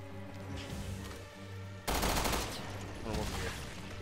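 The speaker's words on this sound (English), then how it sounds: "No, I should have not shot that." Rapid gunfire erupts in Resident Evil Revelations 2 Raid Mode, a loud sustained burst of shots from the midpoint onward over the game's ambient music and effects.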